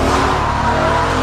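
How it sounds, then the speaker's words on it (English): A BMW M3 power sliding, its engine roaring loud and steady at high revs with tire squeal layered over the drone throughout. "you're gonna look at this thing and think it's a drift car because all we're doing is power slides"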